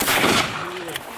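A shotgun fires at ducks during a youth waterfowl hunt in Michigan, a single loud close blast with a short decaying tail.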